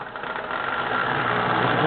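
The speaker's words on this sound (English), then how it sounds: "I got myself a new engine. It's a 1666 by Marx." A Marx 1666 model train locomotive runs steadily on a small home layout, giving a continuous close mechanical whir and hum that builds slightly and holds even, with no talking.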